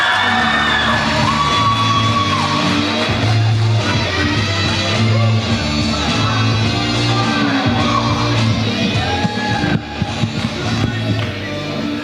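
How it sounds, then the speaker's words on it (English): Loud crowd noise from a school sophomore story slam audience, with shouting, whooping and cheering sustained throughout as the next storyteller is called up, busy and continuous with some voices mixed in. "Please clap up Augie Vasquez."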